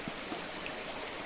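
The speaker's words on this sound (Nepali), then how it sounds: "यो हाम्रो लैती खोला हो" The Laiti river flowing at a family picnic spot, a steady broadband rush of moving water with no break, close and even, with no voices heard.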